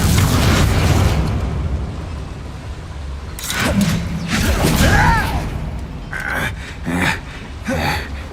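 Confringo blasting spell in Hogwarts Legacy, a burst of fiery explosions and crackling pops in a fight, booming in bunches among rumbling noise, loud and near with short pauses between blasts.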